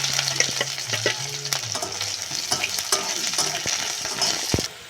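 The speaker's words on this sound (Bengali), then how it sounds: "আমি পেঁয়াজ আর কাঁচা লঙ্কা দিয়ে দেবো।" Onion and green chili sizzle in hot mustard oil with cumin seeds, a loud steady close frying hiss broken by clinks and scrapes of stirring.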